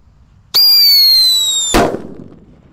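A New Happy Power firecracker is lit and launches with a loud, sustained high-pitched whistling shriek lasting over a second, ending in a sharp burst followed by a fading crackle.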